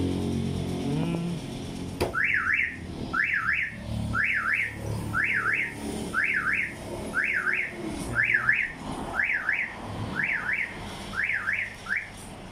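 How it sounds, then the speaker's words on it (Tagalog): A car alarm blares close by, a repeating rising electronic chirp cycling about once a second, preceded by a brief mechanical click and hum. "Ito, may alarm na si Black Mamba."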